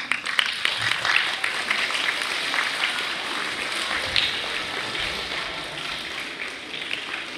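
An audience at a spelling bee cheers and applauds for the remaining contestants, a dense wash of clapping with whoops that starts strong and gradually tapers while staying fairly loud throughout.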